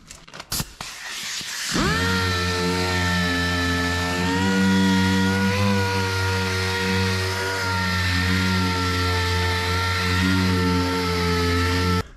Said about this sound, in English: now we'll rough it up with the palm sander